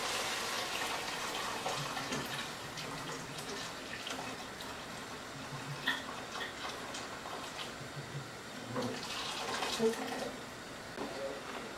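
Boiled water poured during home cooking makes a steady splashing, rushing stream that runs nearly the whole time at moderate level, with small clinks near the end.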